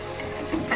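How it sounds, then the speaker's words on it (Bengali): Fish frying in a pan gives off a steady, close sizzle that runs on without a break, with a couple of brief brighter crackles near the end. "এখানে মাছটা ভেজে নিচ্ছিলাম"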